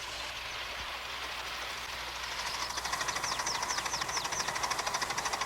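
A model engine runs on the railroad club's mile-long test track, starting as a steady low rumble and building into a rapid rhythmic clatter with faint squeals, fairly close and without talk.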